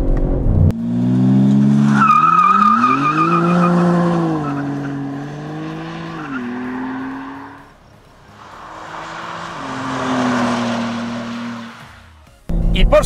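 A 2024 BMW M3 Touring engine revs hard at speed, its loud snarling tone climbing and falling through several gear changes with a brief lull before pulling again, up close and dominating.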